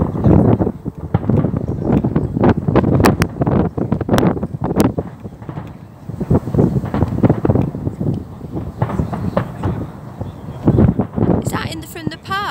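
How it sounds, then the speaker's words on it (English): Strong wind buffets the microphone outdoors near a park on New Year's Eve, gusting roughly and continuously beneath people talking excitedly close by. "Wow. Windy."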